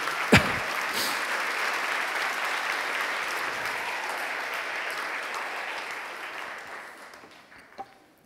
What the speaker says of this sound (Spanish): Dale un aplauso a Cristo por ello